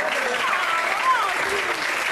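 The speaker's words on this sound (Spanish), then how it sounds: "Isabel, fuerte el aplauso para Isabel." Audience applause at a live show in Moon, Puerto Madero, sustained steady clapping from a crowd for about two seconds, fairly loud and even throughout.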